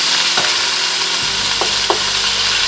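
Oil sizzles in a hot Teflon pan as chicken goes in for Japanese curry, a steady loud frying hiss with a few short clicks of stirring, no talk.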